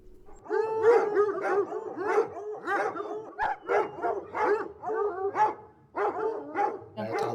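A pack of hunting hounds bays and barks loudly and nearly nonstop, overlapping howling yelps from several dogs close by.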